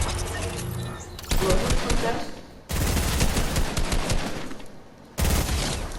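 Bursts of rapid automatic gunfire in the Fortnite video game, three loud stretches of rattling shots separated by brief quieter gaps, with a voice speaking faintly in between.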